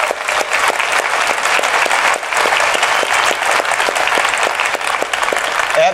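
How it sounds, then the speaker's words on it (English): Loud, sustained applause from a large audience at the DEF CON 20 hacking conference, a dense, steady clatter of clapping that fills the whole moment without a break. "Let's give them a big round of applause."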